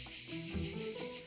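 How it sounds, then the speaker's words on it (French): Cicadas sing under pine trees in Provence in a dense, loud, continuous buzzing chorus with a slight pulsing rhythm, close and alone. "le chant des cigales sous la pinède"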